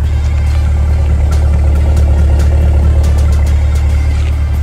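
A 2022 Corvette Stingray idling with a deep, steady exhaust rumble, loud and close, with faint ticking above the drone.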